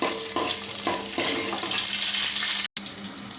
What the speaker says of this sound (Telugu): అందులో పచ్చిమిర్చి ఎర్రగా వేగేంత వరకు వేసుకోవాలి.